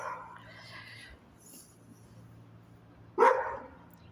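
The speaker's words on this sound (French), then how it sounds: "il y a le toutou qui aboie. Il garde la maison" Single short dog bark from a house-guarding dog, fairly close and sudden after a stretch of quiet room tone with faint talk earlier.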